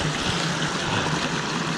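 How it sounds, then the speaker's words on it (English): A small waterfall on an Easter hike with snow around, rushing and splashing in a constant, dense wash of water, heard up close and loud with no speech. "the little waterfalls up close and looks like big waterfalls"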